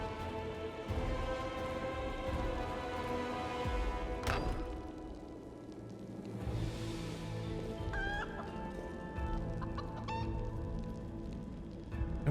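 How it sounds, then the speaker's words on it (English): Chickens cluck repeatedly in the fantasy role-playing game Pathfinder: Wrath of the Righteous, a steady clucking with a brief crowing note, carried over game music and ambience. "I'm glad these cultists can't hear the chicken."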